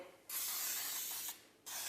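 Baking spray containing flour hisses from an aerosol can onto baking plates in two steady bursts, the first longer, close and fairly loud with a short gap between.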